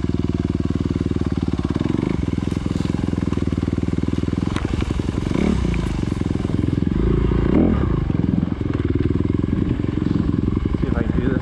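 A 2021 Honda CRF250RX dirt bike revs and churns through mud, its engine loud and steady throughout with surging throttle and splattering clatter, the rider close by.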